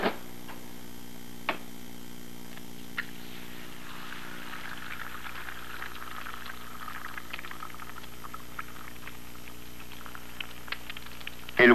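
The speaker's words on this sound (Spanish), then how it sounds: "El huevo se fríe rápidamente" An egg frying in motor oil on a cold stove, a steady soft sizzle with faint bubbling running throughout, with a few light ticks and no voices.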